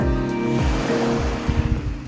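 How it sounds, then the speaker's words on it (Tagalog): Ocean surf at Netanya washes in a broad, rushing swell, heard up close with some wind buffeting the microphone, brief and without talking. "maririnig ang alon na waring may binubulong"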